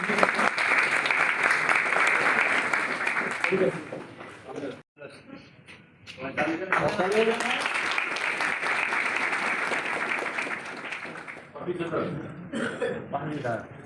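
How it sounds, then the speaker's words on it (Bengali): A crowd gives loud, sustained applause at a police constable recruitment results announcement, clapping briefly and then rising again, with people talking over and between the bursts. "হাততালি"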